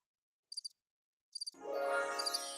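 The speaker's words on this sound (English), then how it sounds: "Crickets." A cricket sound effect plays two short bursts of rapid chirping, followed by a louder swell of sound.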